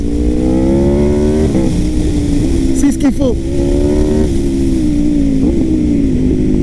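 An Aprilia RSV4 superbike with a 217 hp engine holds a loud, steady high-revving drone, climbing in pitch with brief gear-change dips, while someone speaks over it.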